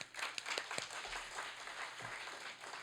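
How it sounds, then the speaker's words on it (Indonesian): A church congregation at a Sunday sermon gives a round of applause, a moderate wash of clapping hands, somewhat soft and distant, with a few sharper claps standing out. "Sekali lagi kita berikan tepuk tangan."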